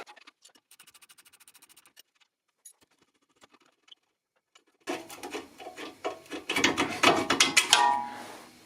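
Bolts being undone on a Peugeot 307 rear shock absorber: light rapid ratchet ticking first, then after a pause a louder stretch of rattling, clanking metal.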